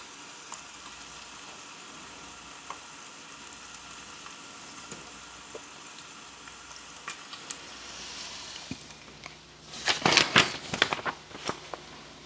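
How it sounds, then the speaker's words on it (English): Hamburger meat browns in a hot pan with a steady sizzle and crackle, then a burst of louder spattering and stirring scrapes near the end, close up with no talking. "Depending on your kind of burger that you're browning, you may or may not need to drain it"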